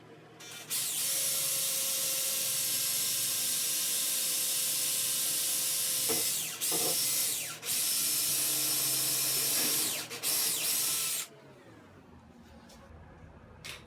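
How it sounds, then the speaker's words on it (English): A small drill bit bores a hole during a tri-fold mirror installation, a loud steady whine running nearly continuously with a few brief dips, then cutting off near the end. "Attach a small drill bit to drill."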